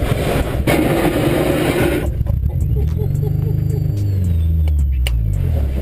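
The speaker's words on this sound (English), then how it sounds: "It's so loud when it scrapes." A fully working car made entirely of plasticine scrapes loudly along the ground, first as a rough broadband grinding and then with a rising and falling engine-like drone, close and loud.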